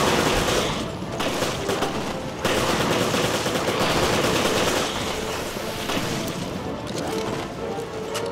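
Rapid bursts of automatic gunfire in the video game Resident Evil Revelations, loud and nearly continuous, with dense volleys of shots and brief gaps throughout.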